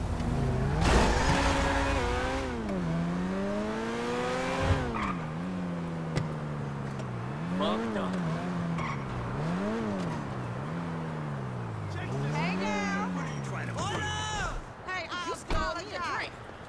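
Engine note of a car driven in Grand Theft Auto V, revving up and down in repeated rising and falling sweeps with occasional tire squeal, steady and fairly close, with a voice talking over it.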